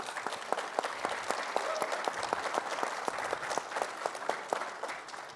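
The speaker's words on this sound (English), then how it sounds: "a round of applause for someone who gave up his seat" Audience applause at a panel event on interprovincial trade, many hands clapping in a lively, irregular patter with sharp individual claps standing out, moderately loud and sustained for the whole stretch.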